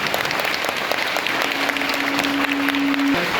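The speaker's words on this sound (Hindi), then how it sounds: "जोरदार ताली से स्वागत करेंगे" Vigorous applause at a teacher training centre welcoming IAS officer K.K. Pathak, dense continuous clapping from a crowd with a steady tone sounding underneath midway through.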